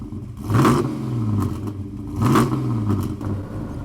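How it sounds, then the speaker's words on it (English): A 1970 Chevrolet Chevelle SS with the LS6 V8 drives along, its engine swelling in two clear revving surges over a steady mid-pitched rumble, heard from inside the car with no talking. "we're out cruising in this bad to the bone 1970 Chevelle LS6 car"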